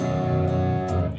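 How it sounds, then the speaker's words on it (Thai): A clean electric guitar tone from a Line 6 POD HD500X multi-effects unit rings out with sustained, bright chord notes, played alone without distortion. "สมมตินี่เสียงคลีน"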